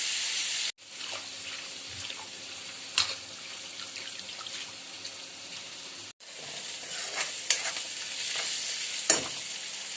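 Kundru, a monsoon wild vegetable, frying with garlic in mustard oil, a steady close sizzle throughout with occasional louder scrapes of a stirring spoon and two brief cuts to silence.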